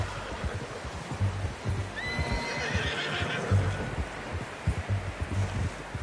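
A horse whinnies once in the video game The Last of Us Part II, a rising and falling neigh, over steady hoof clops and rustling outdoor ambience.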